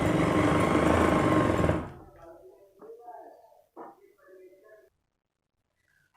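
Sewing machine stitching a seam up ladies' trousers, a loud continuous rapid whir for about two seconds that stops abruptly, followed by faint handling sounds and quiet bits of voice.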